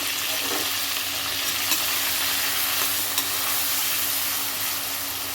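Curry leaves frying with masala brinjal in a pan, a dense, even crackling sizzle and hiss held steady throughout, with faint stirring clicks and no talking.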